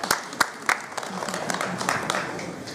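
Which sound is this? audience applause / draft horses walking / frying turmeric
audience applause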